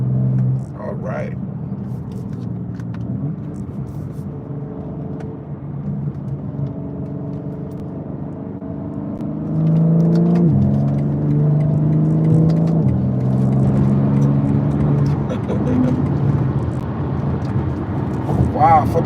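A car accelerates onto an expressway, its engine drone and road rumble rising partway through and holding steady, while someone talks over it throughout.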